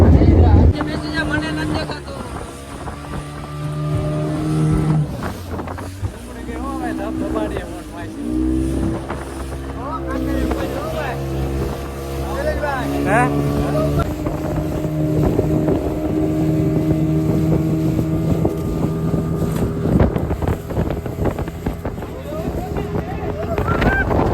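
A motorboat engine drones steadily throughout at a beach, with wind buffeting the microphone and rushing sea water around the hull.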